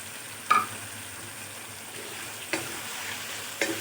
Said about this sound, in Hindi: चिकन को अच्छी तरह भूनेंगे ताकि सारे मसाला जो चिकन में अच्छी तरह ऑब्जर्व हो जाए